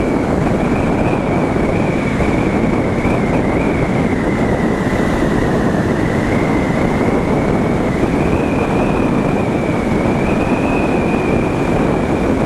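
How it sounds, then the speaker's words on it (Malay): Strong, steady wind roar buffets the microphone throughout a Yamaha R25 motorcycle ride near Marang, a dense continuous rush with a faint engine tone running beneath, loud and unbroken with no talking. "Angin kuat betul lah."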